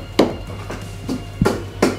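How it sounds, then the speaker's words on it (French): Garlic and chili pepper pounded together with a pestle in a mortar, five sharp, close, evenly spaced thuds with short rings over about two seconds, with no talking. "Je pile l'ail et le piment au même endroit."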